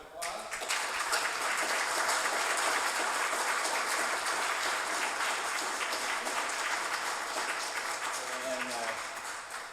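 Sustained audience applause fills a candidate forum for a state House district race, steady and dense from the start to the end, with a faint voice surfacing near the close.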